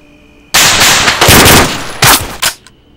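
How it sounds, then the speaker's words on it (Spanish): Loud, close bursts of automatic gunfire in the Arma 3 military shooter during a night battle, sustained rattling volleys with brief gaps, a second burst and a short final shot before fading. "Por ahí viene los tiros."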